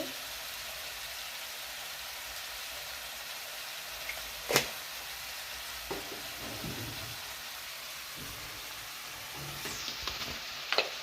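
Curry sizzles steadily in a pan as salt, cumin, chilli powder and turmeric go in, with a few sharp clinks of a spoon against the pan, close and continuous, with no talking.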